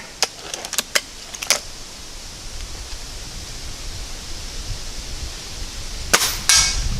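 Air rifle shots with Sig Sauer match pellets fired at a 50-yard target outdoors: several sharp cracks near the start, then a quiet stretch, then another loud report followed by a short hiss, with no talking.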